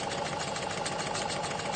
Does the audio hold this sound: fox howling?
no